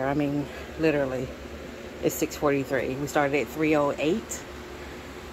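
A steady whooshing electric fan hum runs underneath someone talking, constant and broadband in the background throughout.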